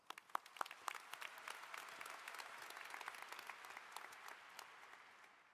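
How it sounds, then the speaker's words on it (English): An audience claps at a high school graduation in an arena, a dense wash of applause with a few sharp, nearby claps at the start, steady and fairly faint from a distance. "Round of applause for Emily and Bryn, please"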